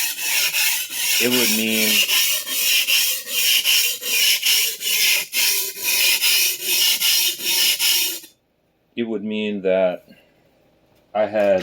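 Steady rhythmic rasping strokes as a vintage Clyde Cutlery chef knife is sharpened, repeated back and forth close up, pausing briefly while someone talks over and between the strokes.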